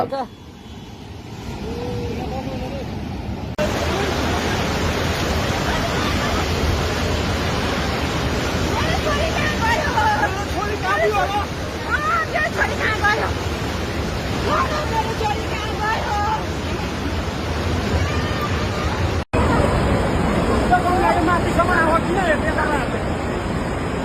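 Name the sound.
flooded Trishuli river rushing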